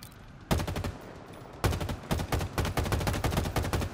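Rapid automatic gunfire from a gun in the game Halo Infinite: a short burst, a brief pause, then a longer sustained stream of loud, evenly spaced shots, with no voices over it.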